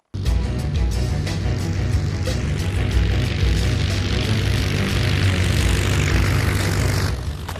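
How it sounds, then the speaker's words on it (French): A loud, steady droning roar of a propeller airplane engine in an animated cartoon, close and continuous, cutting off abruptly at the end. "Oh, bon sang, l'avion!"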